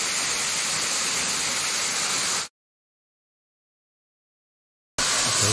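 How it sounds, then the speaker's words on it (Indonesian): A steady, loud rush of a waterfall behind a resort on Mount Dempo with a broad hiss, broken by a few seconds of total silence before the roar resumes. "Ini di air terjun belakang resort Gunung Dempo"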